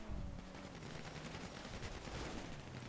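Gunfire in GTA Online rattles in fast, continuous bursts throughout, fairly close and dense, with a low steady hum underneath.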